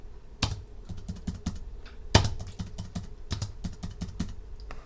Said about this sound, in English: I'm going to start typing in the code that I see here